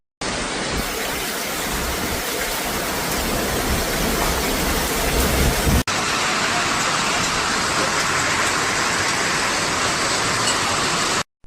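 Heavy rain falls during a hailstorm in Bengaluru as a steady, dense hiss of downpour. It runs loud and unbroken, with a brief cut partway through.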